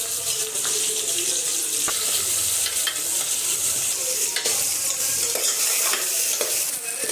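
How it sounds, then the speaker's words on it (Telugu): Onions fry until brown for prawn biryani, giving a constant loud sizzle with occasional ticks and scrapes as they are stirred continuously, close and without talk. "ఆనియన్స్ బ్రౌన్ అయ్యేదాకా కలుపుతూనే ఉండాలి."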